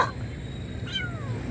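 A cat gives a short, close meow, a faint chirpy cry near the start followed by a fuller rising meow, in a quiet outdoor setting.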